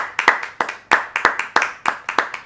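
A small studio group claps during a casual chat show, with distinct individual claps landing in a loose, quick rhythm, close and clear with no talking over them.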